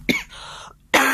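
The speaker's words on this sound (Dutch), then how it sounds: "ik moet de hele tijd hoesten" A person sick with COVID coughs twice, sharp and close, with a short raspy breath between the bursts.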